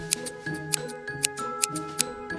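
Scissors snip paper down the middle for a craft paper snake, with a steady run of crisp, close, fairly quiet cuts in an even rhythm.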